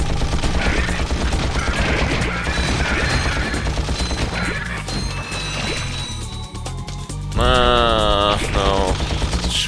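Rapid gunfire bursts from weapons in the Ratchet & Clank video game, dense and loud over game music and clatter, with a bright burst of tonal weapon effects near the end.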